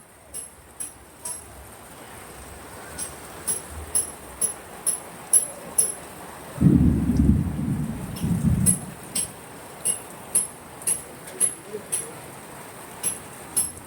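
Heavy hailstorm with rain and thunder in Boalmari, Bangladesh: a steady wash of rainfall with sharp ticks at a regular beat, broken midway by a loud, deep rumble of thunder that lasts about two seconds before fading back into the downpour.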